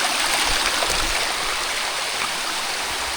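Water pours at a waterfall on a hiking trail, a constant bright rushing hiss that stays close and fairly loud, with no voices over it.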